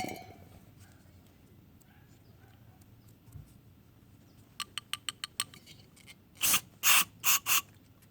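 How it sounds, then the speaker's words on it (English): A few short aerosol spray bursts of carburetor cleaner, then several longer loud hissing sprays in a row, close up, after a quiet stretch, while cleaning the idle control valve of a BMW 318iS E30. "I would go ahead and spray it a few more times"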